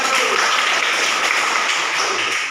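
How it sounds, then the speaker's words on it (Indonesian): Classroom audience applauding a student group after their presentation, a dense, loud, steady wash of clapping throughout. "mari kita beri aplaus untuk kelompok 1"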